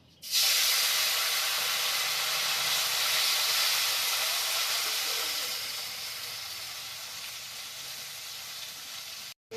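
Small kachki fish dropped into hot oil in a pan, an abrupt loud burst of sizzling hiss that holds steady and then gradually eases before cutting off, close up with no speech.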